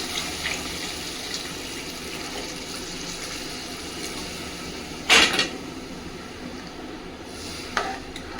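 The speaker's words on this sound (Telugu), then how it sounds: "ఇంకా నేనైతే వాటర్ పోసుకుంటున్నా పులుసులోకి." Water is poured into a simmering tamarind stew with onion and raw mango pieces, a short splashing gush midway through an otherwise quiet stretch of faint kitchen sizzle.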